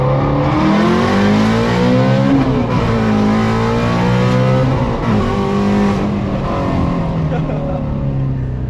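A 2019 Ford Mustang GT350R engine revving loud and close, its pitch climbing and dropping repeatedly through gear shifts in a continuous strong roar.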